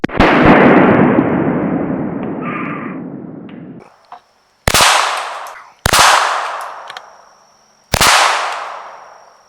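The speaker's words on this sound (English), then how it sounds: "so now he's going to be shooting some 22 triple rounds" Rifle fire from .22 rounds striking a Tannerite target produces a long, loud rumbling boom that decays over several seconds, followed by three sharp cracking shots spaced about a second and a half apart, each with a ringing tail, outdoors at roughly 100 yards.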